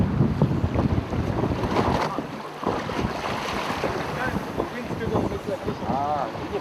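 Wind buffets a fishing boat at sea off Palau during fly fishing, a steady loud rush of gusts and water noise throughout, with a voice speaking over it.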